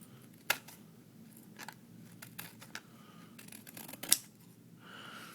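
Several quiet, sharp scissor snips through a printed proxy trading card, spaced irregularly. The loudest comes near the end, over a soft room background.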